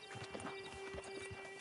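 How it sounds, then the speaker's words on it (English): Horse hooves clip-clopping at a walking pace in Red Dead Redemption 2, several soft, close steps over a faint steady tone, joined by a short whinny, with no speech. "Get on the horse when you're ready."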